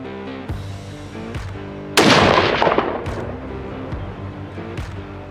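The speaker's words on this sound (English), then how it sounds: "I'm gonna go zero my rifle here right before dark." A single sharp rifle shot cracks out in the mountains of Pakistan near dark during zeroing at just under 200 meters, loud and close, with a long ringing decay over a steady low humming drone.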